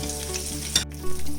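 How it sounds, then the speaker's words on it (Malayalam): Chicken sizzling and frying in a pan, a steady close crackle of hot oil with a couple of brief stirring scrapes, no voices. "നമ്മുടെ ചിക്കനെല്ലാം നമ്മൾ ഫ്രൈ ചെയ്തു"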